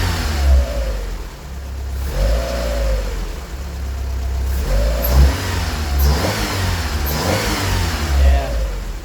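A cold 1988 Honda Accord engine revs repeatedly, each throttle blip rising and falling in pitch over a steady idle, several distinct revs spaced a couple of seconds apart, close and fairly loud.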